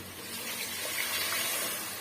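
Water is poured into a cooking pot for basmati tomato rice, a steady, fairly close rushing splash that runs continuously, with no talking over it.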